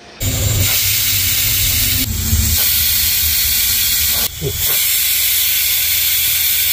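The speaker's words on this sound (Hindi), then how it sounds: "कुकर का काम ख़त्म हो गया जो उसका सीटी मारने काम था वो तो हो गया" A pressure cooker whistles with a loud, continuous hiss of escaping steam while cooking mutton curry, sputtering briefly a couple of times but otherwise steady and close.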